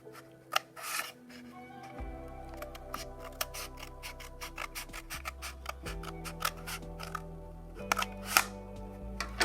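Scissors or a blade cutting through cardboard while building a cardboard castle, a rapid series of crisp snips and rasping ticks, close and fairly quiet, over a steady background of tonal music.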